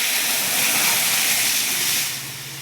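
Cooked dal poured into a hot asafoetida and mustard seed tempering, a loud broad steamy hiss that holds steady and then eases off toward the end.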